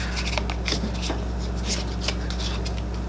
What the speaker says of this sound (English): I'm gonna shuffle because that's a crap shuffle right there